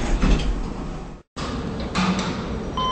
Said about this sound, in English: Doors are opening.